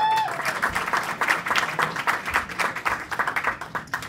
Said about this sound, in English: Give a warm round of applause for Marty Wurst, everybody.